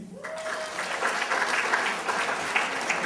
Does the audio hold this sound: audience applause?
yes